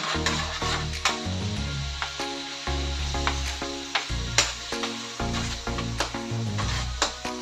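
Garlic sizzles and crackles steadily in hot oil in a frying pan, a close, continuous frying hiss with occasional louder pops and stirring scrapes.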